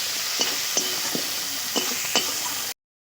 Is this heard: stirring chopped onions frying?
yes